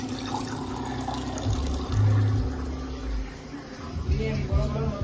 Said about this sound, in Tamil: தண்ணி அளவு எடுத்து வருகிறேன், டிஸ்டர்ப் பண்ணாது